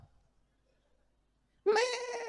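A human voice imitates a hungry goat's bleat: after a near-silent pause, one loud, wavering, nasal bleat starts suddenly and holds to the end.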